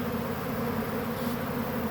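A honey bee swarm hums in a steady, dense drone close by, unbroken and even in level throughout.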